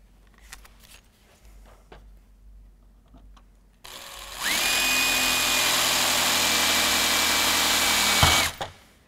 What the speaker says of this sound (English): we're going to drill all these holes with a 5/32 drill bit